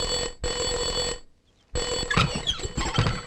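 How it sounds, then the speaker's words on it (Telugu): A telephone rings in a home comedy scene, bursts of bright electronic ringing with a short gap in between, fairly loud and close, with some clatter toward the end. "ఫోన్ మోగుతుంది"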